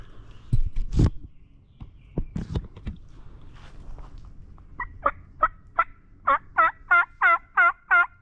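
Wild turkeys gobble during a Pennsylvania spring hunt, a run of loud, evenly spaced gobbles from fairly close birds after some rustling footsteps in the woods.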